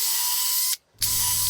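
A pillar drill whines steadily drilling holes through a wooden mitre saw base fence, cuts out for a moment, then starts again with a deeper hum underneath.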